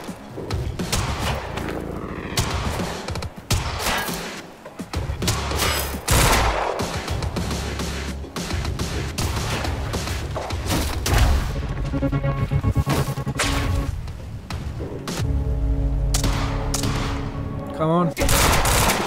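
Quantum Break combat rattles with repeated loud gunshots and heavy thuds over an ongoing noisy battle, a sniper firing among them, with a voice talking over parts of it.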